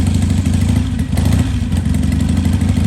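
Harley-Davidson Shovelhead Big Twin motorcycle engine fired up and running, a loud, close, steady low thudding idle with a brief dip and catch partway through, no talking over it.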